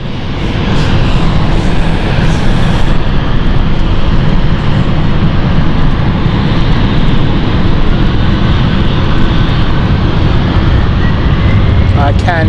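An airplane takes off from runway 27 at London City Airport with a loud, steady broadband engine roar that holds at full strength for the whole stretch.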